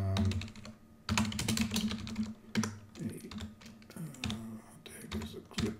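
Fingers tap quickly on a computer keyboard while filling in a form, a close, steady run of crisp key clicks in uneven bursts with brief pauses.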